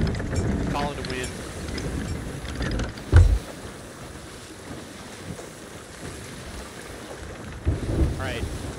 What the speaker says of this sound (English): Alright, which way is the storm going?